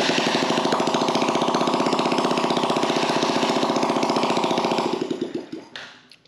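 A Yamaha TTR50 dirt bike engine, just after a carburetor cleaning, fires up and runs loud and steady with a rapid chugging rhythm for about five seconds, then sputters and winds down to a stop.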